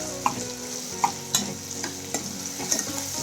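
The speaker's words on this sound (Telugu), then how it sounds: "ఆనియన్స్ మిర్చి వేసుకొని కొంచెం సేపు గోల్డెన్ బ్రౌన్ కలర్లో" Chopped onions and green chillies frying in hot oil for aloo capsicum curry, a steady soft sizzle broken by a few light scraping stirs and taps of a spatula, close and clear with no voices.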